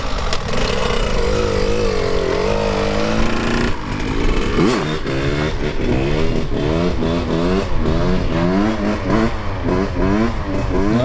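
Small KTM 65 SX dirt bike from 2023, engine revving hard and steadily through a wheelie, with a loud, continuous buzzing two-stroke whine that rises and falls in repeated pitch sweeps close by.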